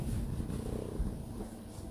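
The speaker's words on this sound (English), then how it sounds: "Don't purr after you gagged." A house cat purring right after gagging, a steady low rumbling drone that stays close and soft throughout, with no voices over it.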